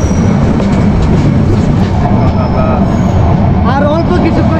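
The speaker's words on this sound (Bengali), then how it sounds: "এই যে আমরা কক্সবাজার রেল স্টেশনের প্ল্যাটফর্মে ঢুকতেছি" The new Cox's Bazar Express train rolls into the Cox's Bazar railway station platform with a loud, steady rumble and clatter of wheels, and brief wheel squeals near the end, with voices faintly mixed in.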